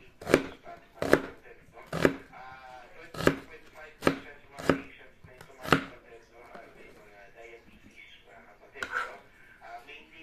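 A knife slices through bitter gourd and carrots for a salad, landing about ten crisp, close cuts on a board in uneven bursts, with quieter clatter and faint voices between strokes.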